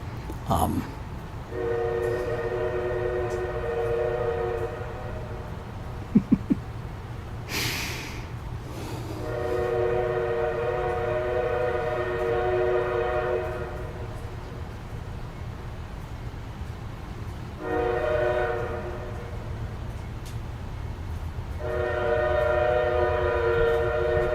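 A passing train sounds its horn in four long blasts: two sustained tones, then a short one, then a final long one, over a continuous low rumble of rolling wheels. A brief clatter is also heard.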